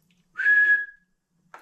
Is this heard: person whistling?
yes